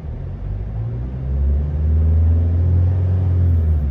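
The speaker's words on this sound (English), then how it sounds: "Give the car a quick rev." A 2018 Holden Colorado LS-X engine idles with a deep rumble, then revs up into a louder sustained drone, heard close by with no talking.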